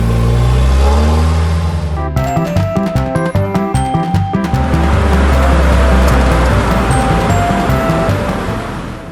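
A toy car from a Peppa Pig playset revs its engine loudly and steadily, with rapid, choppy bursts and squealing tire-like sounds through the middle before a smooth rev resumes. No one speaks.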